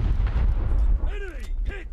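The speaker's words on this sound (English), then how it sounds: "Torpedo away, torpedo away. Enemy hit." A torpedo strikes an enemy ship in the naval game War Thunder Mobile, a heavy low rumbling boom that fades out, then gives way to sweeping tonal whistles and a voice.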